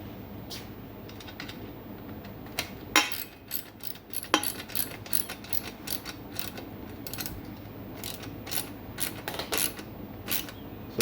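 A tool clicks and ratchets in short irregular bursts while the rear derailleur bolt on a fitness hybrid bike is tightened, with close mechanical rattles and scrapes throughout.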